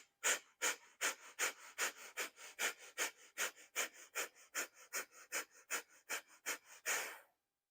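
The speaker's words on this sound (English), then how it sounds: "Deep breath in." Deep, rhythmic breathing during a yoga class, about twenty quick forceful breaths in a steady pulse, close and clear, ending in a longer exhale, with no talking.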